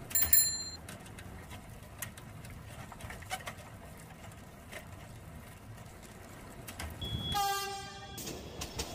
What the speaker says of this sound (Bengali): প্ল্যাটফর্মে একটু অপেক্ষা করতেই ট্রেন চলে আসলো